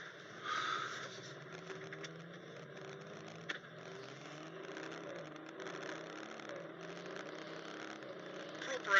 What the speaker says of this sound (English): the exhaust note from that optional Audi Sport exhaust